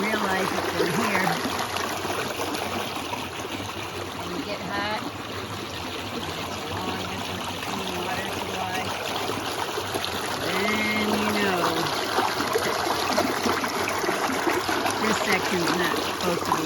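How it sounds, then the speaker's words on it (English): A steady trickle and rush from a forest stream in the wilderness continues throughout, with a person talking quietly over the water now and then. "Sitting by the stream,"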